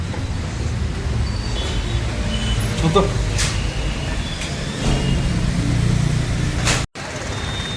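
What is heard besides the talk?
road traffic in rain in Hyderabad at night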